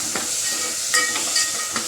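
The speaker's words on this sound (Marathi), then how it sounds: "त्यात फोडणी चालू आहे" Spice tempering with curry leaves and onion sizzles in hot oil, a steady close hiss with a few sharp crackles and spikes over under two seconds, no voices.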